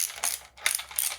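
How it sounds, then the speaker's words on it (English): A cassette tool ratchets in quick clicking bursts while screwing down a RockShox Pike Charger damper into a mountain bike fork leg, three short rasping runs close up with brief pauses between them. "we're going to take our cassette tool and screw down"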